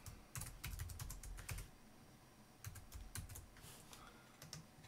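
A password is tapped out on a computer keyboard in two quick flurries of close, soft key clicks separated by a brief pause, in a quiet room.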